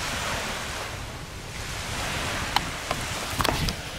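Ocean waves roll steadily onto the beachfront of a Koh Samui resort in Thailand, a loud continuous wash of surf with a few faint clicks and knocks near the end and no talking.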